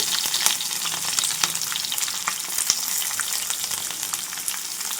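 Onion pieces and slit green chilies fry in oil in a pan, a steady close sizzle with occasional sharp pops and crackles throughout, no voices.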